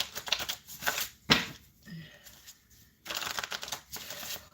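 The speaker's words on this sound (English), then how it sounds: "Let's shuffle this card a little bit" Tarot cards are shuffled in quick riffling bursts during a live spiritual reading, loud and close, with short pauses and a brief faint voice in between.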